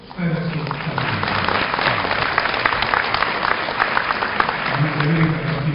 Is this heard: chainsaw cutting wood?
no